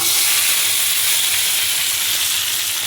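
Shallots fry in hot oil for a South Indian curd curry, giving a steady, loud, close sizzle that runs without a break for the whole stretch, with no voices.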